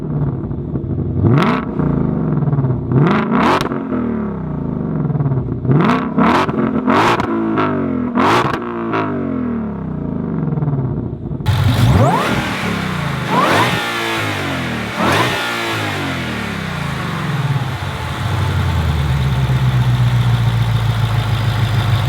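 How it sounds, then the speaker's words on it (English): A Shelby GT500 Mustang V8 engine blips through a series of sharp, loud revs, then settles into a continuous rising and falling throttle roar with a rumbling idle underneath, close and alone with no talk. "soak up the sound that this engine produces"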